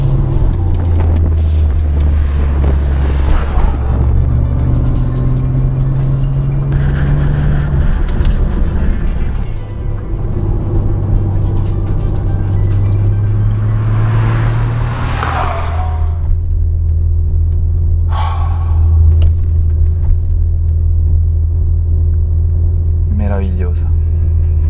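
An old Porsche 993 sports car engine rumbles loudly nearby, its deep drone rising and falling as it revs and shifts, with a voice talking underneath.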